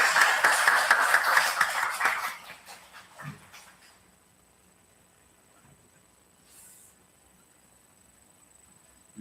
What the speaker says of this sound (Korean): 우리 박수 한번 치면서 좀 환영했으면 좋겠습니다